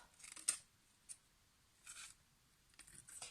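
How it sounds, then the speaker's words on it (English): Scissors cutting paper in a handful of quiet, separate snips, with short pauses between each cut. "I'm just going to cut. There's too much of that there, so get my quick scissors."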